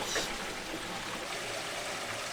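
Water carrying air bubbles gushes and trickles through a newly extended water supply line, a steady close rushing and gurgling flow throughout with a brief louder burst at the end.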